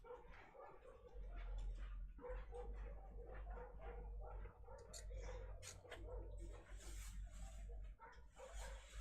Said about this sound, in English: I don't know if you guys can all hear the neighborhood dogs are all screaming